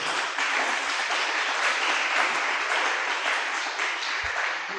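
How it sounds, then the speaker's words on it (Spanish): A church congregation gives a strong round of applause for the preacher, dense continuous clapping that fills the hall evenly throughout. "puede dar un fuerte aplauso al maestro"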